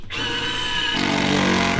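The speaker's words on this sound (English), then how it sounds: "I need to drill a hole to put a rubber garment in the hole to slide the wires through" A power drill bores a hole for a rubber grommet during wiring work on an old snowcat, running steadily with a whirring tone that rises and grows louder partway through, heard close and alone.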